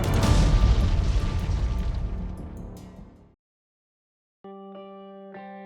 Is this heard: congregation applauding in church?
no